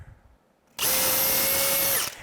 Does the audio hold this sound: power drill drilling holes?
yes